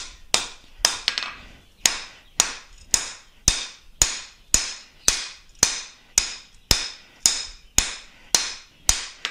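A hammer strikes a hot froe blade on an anvil in steady, evenly spaced ringing blows, about two per second, loud and close with metallic decay after each hit, no speech.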